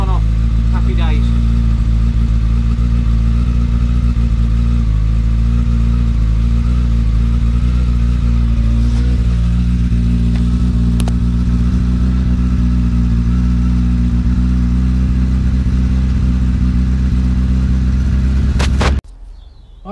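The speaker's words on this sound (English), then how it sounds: "Just leave your bike running for 60 seconds, 2 minutes tops" A Japanese motorcycle idles steadily after an oil change, a loud, close, even engine rumble that holds throughout and cuts out abruptly at the very end.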